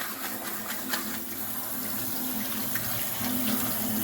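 Tap water runs steadily into a colander of potatoes at a kitchen sink, a constant close splashing rush with no voices.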